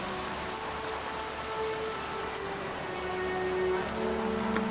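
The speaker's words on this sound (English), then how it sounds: "It's raining." Steady rain patters down as a continuous, even hiss, with no voices, in Chicago at Lincoln Park Conservatory.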